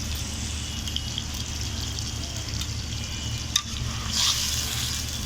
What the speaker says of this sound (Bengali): এখন এই মাংসটাকে আমি তেলের মধ্যে এবং আদা রসুনের সাথে খুব ভালোভাবে কষিয়ে নেব।